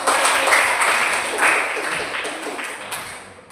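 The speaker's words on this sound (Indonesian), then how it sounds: "Jawaban yang baik, tepuk tangan untuk" Students in an economics classroom clap for a good answer, a close burst of clapping that starts strong and gradually tapers off.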